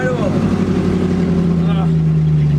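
A 1924 Singer Sport steampunk hot rod engine runs loud and steady, a deep sustained drone close by with a slight pitch drop, a voice briefly audible over it.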